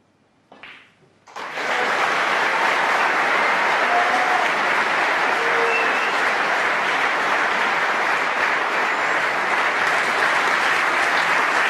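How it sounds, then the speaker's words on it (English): A snooker audience at the 2018 World Championship bursts into loud, sustained applause after a brief rustle, the dense clapping holding steady and close for over ten seconds. "Lots of applause."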